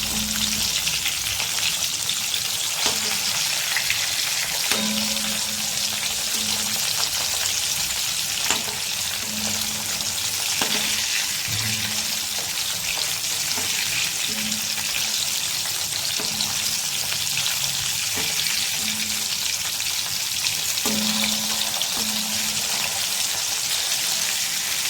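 Chicken wings deep frying in hot oil, KFC style without egg, give a steady dense sizzle and crackle that runs the whole time, with occasional soft clinks from a pan or utensil and no talking.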